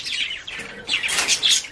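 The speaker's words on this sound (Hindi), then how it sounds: "ऐसे काफी मटक मटक के चलता है ये कबूतर" A pigeon gives quick, high chirping calls close by, in a short run of bright, overlapping notes with no voices.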